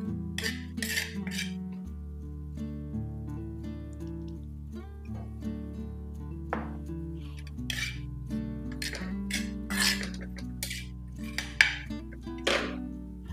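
Grated coconut dry-roasts in a pan, heard as repeated short scraping and clinking strokes of a spatula against the metal, coming in uneven bursts over steady background music.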